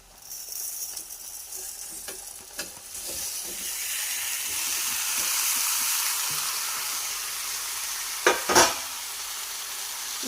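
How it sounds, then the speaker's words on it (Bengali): Vegetables stirred into a fried spice paste in a pan give a steady, close sizzle and hiss with scraping stirs throughout, ending in a couple of sharper clatters near the end. "সবজিগুলো দিয়ে ভালো করে নেড়ে চেড়ে নেব"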